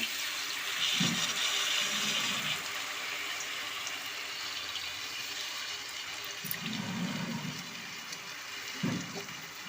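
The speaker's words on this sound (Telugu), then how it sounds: "ఇప్పుడు చింతపండు పులుసు యాడ్ చేసుకుంటున్నానండి" Tamarind juice is poured into a simmering sea fish curry, a watery rush that swells and fades in a few separate pours over steady background hiss.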